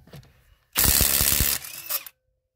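A Bosch GDX 18V-EC 18-volt impact driver backs out a stubborn screw in one loud, close burst of rapid hammering impacts lasting just over a second, then a shorter whirring tail before it stops.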